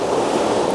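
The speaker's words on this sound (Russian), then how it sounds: "Вот тут у нас бушуют волны." Rough sea waves on a fine pebble beach, a loud continuous roar of surf mixed with wind noise on the microphone, close and unbroken for a brief moment with no voices.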